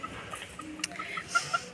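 A bantam chicken clucks in a few short, moderately close bursts toward the end, over soft outdoor background noise on a farm plot.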